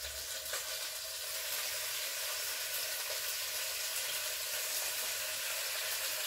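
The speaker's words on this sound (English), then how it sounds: "I'm just going to start frying this up." Steady, dense sizzling of lamb frying in hot oil in a Dutch oven, continuous and close, with no talking.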